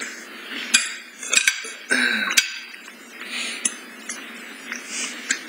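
Dishes being washed by hand, with repeated sharp clinks of pots, plates and cutlery knocking together at close range over running water.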